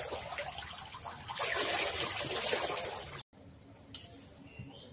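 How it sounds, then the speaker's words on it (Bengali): Water is poured steadily into a pot of fried taro root curry for about three seconds, then cuts off to near quiet with faint kitchen sounds. "কচুরমুখিটা কষাই হয়ে গেছে, আর জলটা দিয়ে দেবো।"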